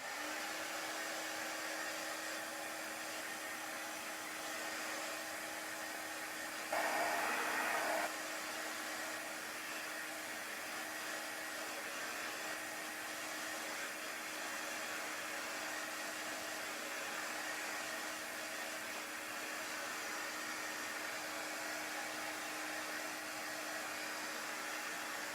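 A hair dryer drying chalk paste on a Chalk Couture navy and gold cut-out pumpkin craft, a steady, faint, even whir running unbroken for the whole stretch, with one brief louder rustle partway through.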